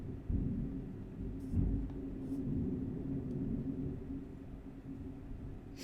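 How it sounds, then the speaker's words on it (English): Thunder rolls as a low, continuous rumble, fairly distant and steady for several seconds, with a slight swell near the start and no clear cracks. "Can hear that thunder though"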